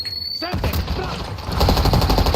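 Automatic gunfire in the Warzone battle royale video game, a dense run of rapid shots after a brief quiet moment, loud and building toward the end.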